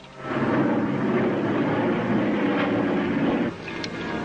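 Steady droning roar of an airplane engine in flight, loud and continuous with a low rumbling tone, easing slightly near the end with no voices over it.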